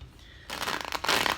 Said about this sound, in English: I'm going to shuffle a couple more times though.